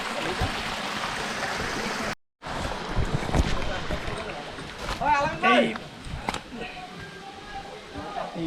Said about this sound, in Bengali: ঝর্ণার প্রথম ফোয়ারা।